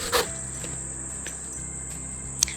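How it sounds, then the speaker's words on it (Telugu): Crickets and other night insects gathered around a lamp outdoors chirp in a steady high continuous trill, with a few brief soft knocks and clicks mixed in close by. "లైట్కు పురుగులు వస్తున్నాయి"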